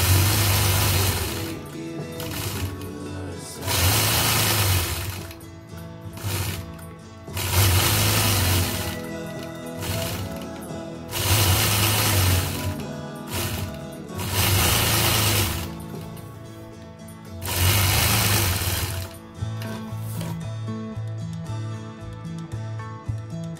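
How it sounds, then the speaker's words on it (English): Sewing machine stitching in the ditch while machine quilting a block with a quilting ruler, running in loud, close, steady bursts of several seconds separated by short pauses. "I'll stitch in the ditch all the way around the outside of the block to complete that"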